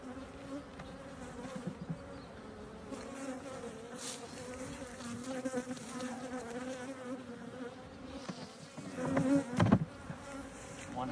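Honeybees swarm around an apiary hive during an expansion, a steady close buzzing drone throughout with louder bursts as bees pass near, and a few handling knocks near the end.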